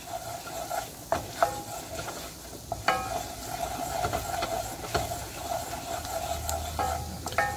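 A flour roux cooks down in a pan with a soft, low sizzle, punctuated by frequent scraping strokes and occasional utensil clicks as it is stirred.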